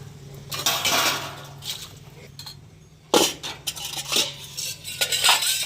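Metal dishes and utensils being washed by hand at home, with repeated close clinks and clatters of steel pots and cutlery in bursts, separated by brief quieter pauses and scraping.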